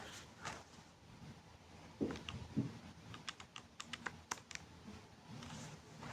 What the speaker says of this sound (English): I'll go ahead and I'll type this into my calculator.